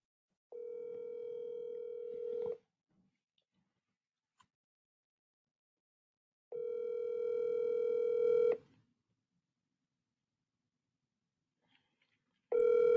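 A telephone ringback tone plays over a speakerphone in long, steady bursts of about two seconds, separated by gaps of silence, loud and clear with no voices.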